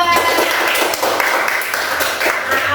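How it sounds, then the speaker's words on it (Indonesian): Classroom students clap for a presenting group, a brisk scattered patter of hands close by, fairly loud and uneven, with faint voices mixed in. "Tepuk tangan buat kelompok 2"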